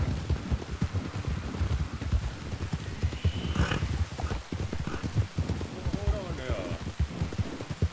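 A horse in a Western drama moves with quick, rhythmic hoof clip-clops on hard ground and lets out a whinny, with voices speaking over it and a light rain-like hiss.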